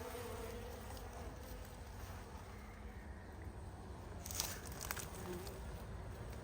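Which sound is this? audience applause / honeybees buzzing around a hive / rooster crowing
honeybees buzzing around a hive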